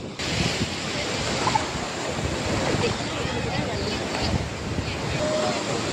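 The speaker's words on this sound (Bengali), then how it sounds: "চারটে 5টা লাইনে ঢেউ আসছে।" Ocean waves roll in on the beach in four or five lines, a steady, loud surf roar and wash heard up close, mixed with gusts of wind across the microphone.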